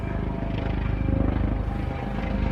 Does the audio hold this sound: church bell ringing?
no